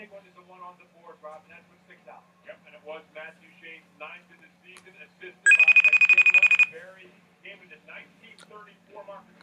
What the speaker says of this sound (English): guess I'll just FaceTime him on my phone